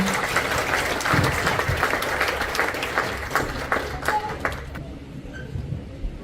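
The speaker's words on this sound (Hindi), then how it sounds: "पास्टर दिलशाद को बुलाना चाहूंगी, आपकी जोरदार तालियां" A congregation at a Friday church service gives loud applause, dense continuous clapping that fades out near the end.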